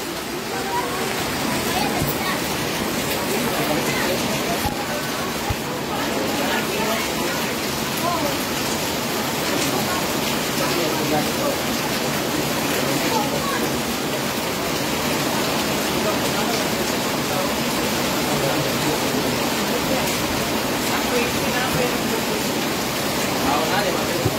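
Steady rain falls outdoors near a flooded new bridge, making a constant, dense hiss that stays even from start to finish, with faint voices underneath.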